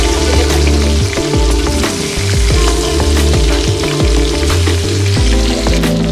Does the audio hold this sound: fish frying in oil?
yes